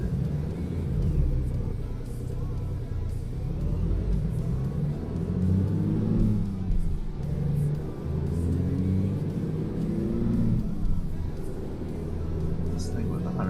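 Steady low rumble of a truck engine while driving, with an owner-operator's rig droning continuously under fluctuating whir and occasional revving, with voices partly mixed in at times.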